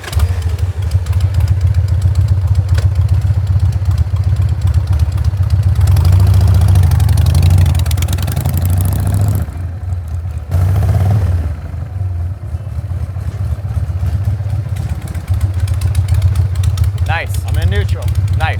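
A jockey-shift motorcycle rumbles steadily close by, engine swelling briefly as it pulls up, then dropping and idling after the shift into neutral and the stop; a voice talks over parts of it.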